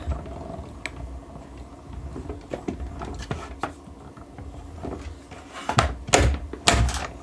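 A hand-cranked embossing machine pushes plates and card stock through, then lets out a few loud, distinct mechanical clunks near the end, after softer creaks and rattles.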